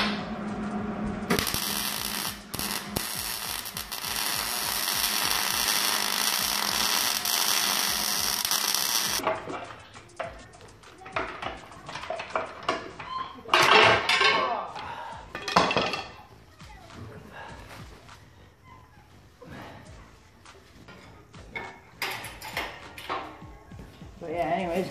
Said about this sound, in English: put some shitty welds on it